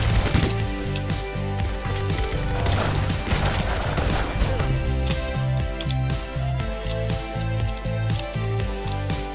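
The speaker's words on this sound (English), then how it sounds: "Oh, I almost shotgunned that guy." Rapid gunfire in the Roblox shooter Weaponry comes as loud, dense bursts and cracking shots that repeat steadily over busy game music, with no voice over it.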